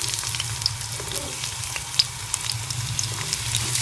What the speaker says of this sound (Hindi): मैंने कढ़ाई में घी डाली है। आइए इसमें प्याज शामिल कर लेंगे।